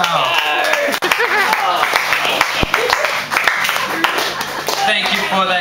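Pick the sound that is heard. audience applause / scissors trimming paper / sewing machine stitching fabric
audience applause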